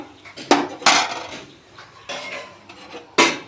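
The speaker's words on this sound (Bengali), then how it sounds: "কাজু বাদাম আর একটু নাড়াচাড়া করবেন" A spoon scrapes and clatters against a metal pan while cashews and raisins are stirred for a papaya dish, with four or five loud bursts of scraping at irregular moments and no talking.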